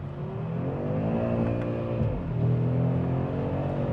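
A 2022 Audi RS3 saloon accelerating on the road, its engine note climbing steadily in pitch, dipping briefly as it shifts, then rising again, loud and close from inside the car with no talk.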